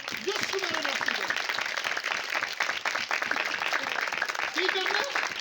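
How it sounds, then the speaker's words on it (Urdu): A church congregation claps loudly and continuously at a service, the steady applause mixed with voices and cheering throughout. "زور دی بجاؤ تالیاں"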